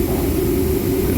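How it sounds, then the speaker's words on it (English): Compressed air rushes into a tyre at a wheel fitting shop as a loud, continuous, close hiss that holds steady throughout. "going to fill it up with air"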